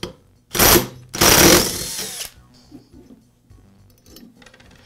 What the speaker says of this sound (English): I'm going to use an impact to remove the flywheel nut